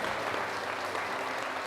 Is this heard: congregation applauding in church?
yes